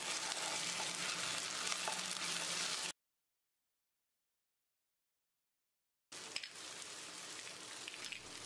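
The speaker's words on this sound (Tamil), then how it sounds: "இஞ்சி பூண்டு விழுது பச்சை வாசனை போகிற அளவுக்கு வதங்கணும்" Ginger garlic paste sautés with onions in a pan for rava kuska, giving a steady close sizzle and stir that cuts out into silence for a few seconds before frying resumes.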